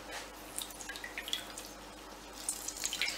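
Pieces of cut quince dropped into a bowl of water, giving a short run of small, soft wet plops and drips, close and quiet, with no talking.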